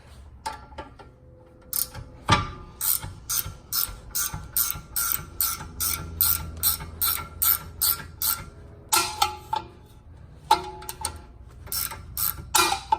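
Ratchet wrench removing bolts on a Fiat 500 Abarth during a rear torsion bar install: rapid metallic clicking in repeated bursts, close and clear, with brief pauses and a few knocks between strokes.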